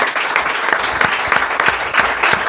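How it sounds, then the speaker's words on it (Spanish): An audience applauds Javier at a book presentation for "El enigma Pertierra": dense, steady clapping from many hands fills the whole stretch, loud and close, with no talking over it. "antes un aplauso para Javier"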